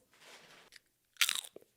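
Popcorn triangle snacks crunched close to the mouth: a dense burst of sharp crisp crunches, followed by a few softer chewing sounds, after a quieter stretch of faint rustling.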